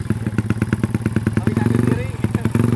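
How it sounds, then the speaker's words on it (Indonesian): A racing motorcycle engine thumps loudly and rhythmically close by, a rough pulsing idle with a voice talking over it midway. "Nah, ini motor balap."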